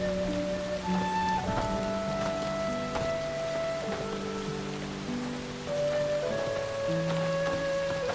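Steady rain patters on surfaces at night, a constant hiss running throughout beneath sustained melodic music tones.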